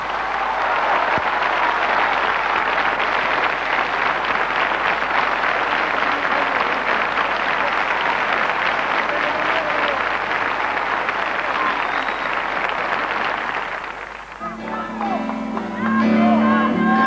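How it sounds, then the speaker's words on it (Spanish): A large television studio audience claps in a loud, sustained wave of applause for about fourteen seconds. The clapping then fades out as music begins. "Yo para todos ellos y para estos chicos divinos les pido un súper, súper aplauso."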